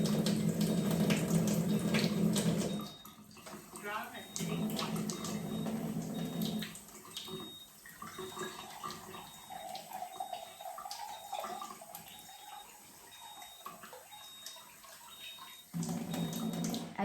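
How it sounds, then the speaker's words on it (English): Kangen water pours and splashes into a glass with gurgling, bubbly flow, loud at first, then running more softly and unevenly before picking up again. "I'm going to add some strong Kangen water."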